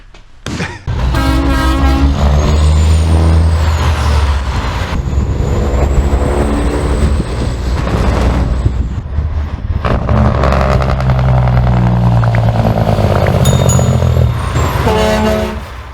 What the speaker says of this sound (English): the big blue Peterbilt, the first ever 389 Peterbilt day cab